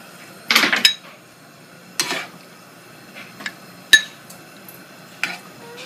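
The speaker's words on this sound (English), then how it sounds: "We're going to start filling our little dishes." Small serving dishes clink and scrape as lobster mac and cheese is spooned in, with one busy burst of clatter followed by several lighter, scattered knocks and taps close by.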